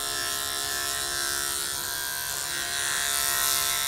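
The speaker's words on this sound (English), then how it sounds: "Once you've clipped both sides with your clipper" Electric dog clippers run over a Labradoodle's coat during grooming, a steady close-up buzzing hum that holds even and continuous with no speech.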